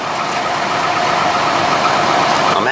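A 1997 Chevy engine idles just after a fuel pump replacement, giving a loud, steady, even rumble close by and unbroken for the whole stretch.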